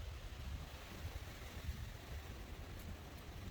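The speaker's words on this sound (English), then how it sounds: "This wind is insane." Strong wind blowing outdoors near bee swarm traps produces a constant low roar and buffeting rumble against the microphone, steady and fairly faint, with no talking.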